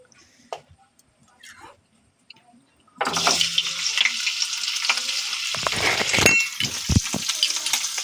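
Paneer fries in white oil with salt and turmeric. After a few quiet seconds, a steady, close sizzle suddenly starts, with occasional stirring noises.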